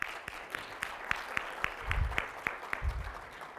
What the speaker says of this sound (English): so if you don't mind joining me in a round of applause.